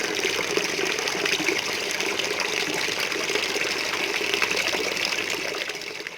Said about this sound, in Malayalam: അവിടെ എയർ ടൈറ്റ് ആയതുകൊണ്ട് വെള്ളം മൊത്തം വന്നുകൊണ്ടിരിക്കും.